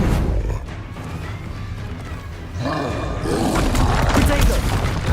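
Bombarda spell blasts in the Hogwarts Legacy video game: a dense, roaring burst of explosive rumble that swells louder and fuller midway, with crashing debris, with a voice heard over the clamor.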